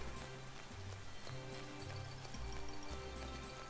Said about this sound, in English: so the rain has to stop.